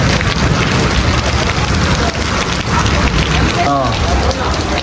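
Heavy rain pours down in Muzaffarabad, a dense, loud, steady hiss of drops drumming on surfaces, with a brief voice breaking through near the end.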